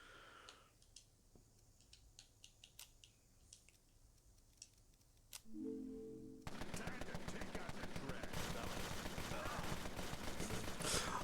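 Submachine gun fire in the Empire of Sin video game, a dense rapid burst that erupts after scattered quieter clicks and a short tone, staying loud and continuous for several seconds.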